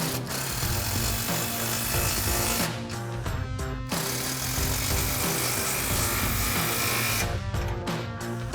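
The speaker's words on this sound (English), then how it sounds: "Now we can tighten our 2 clamps at the back of our H-pipe. Same thing, impact and 15mm socket." An impact wrench with a 15mm socket tightens the two exhaust clamps at the back of the H-pipe on a 2024-2025 Mustang GT cat-back install, a loud continuous mechanical whir with brief pauses near three and seven seconds.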